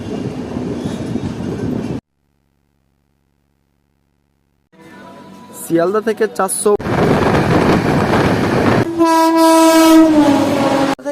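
The 13147 Uttarbanga Express stands at Samsi railway station, its rumble cutting off into a few seconds of silence before loud, close horn blasts and a station announcement sound over continuing train noise.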